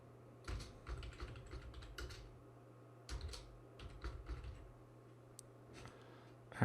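Bursts of computer keyboard typing as a name is entered into a website builder, quick clusters of close key clicks separated by short pauses, with no talking.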